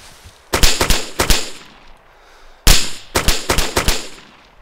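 Gunfire in the DayZ survival game: a rapid string of sharp, loud shots, a pause of about a second, then a second quick volley of shots, each crack ringing out briefly.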